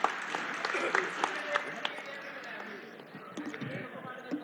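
Audience applause in a hall at a political gathering, a sparse, moderately loud patter of claps with scattered sharp individual hits, thinning toward the end amid murmuring.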